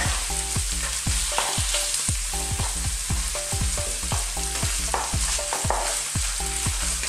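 Chicken breast sizzles steadily in a pan for Filipino adobong sitaw, a loud continuous frying hiss with repeated rhythmic scraping and stirring knocks close up, and no talking.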